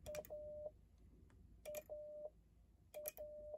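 A faint Morse code letter A keyed on a paddle at 10 words per minute, tapped out three times, each a short beep followed by a long beep, with clear pauses between repeats.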